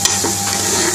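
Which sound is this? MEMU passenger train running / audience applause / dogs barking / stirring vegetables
stirring vegetables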